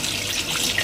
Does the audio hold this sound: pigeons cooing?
no